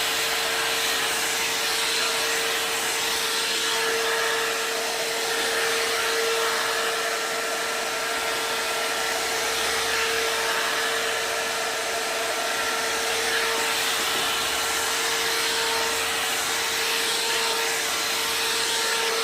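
A hair dryer blows steadily while blow drying natural hair, a loud continuous whirring airflow with a constant motor whine that runs unbroken throughout with no talking.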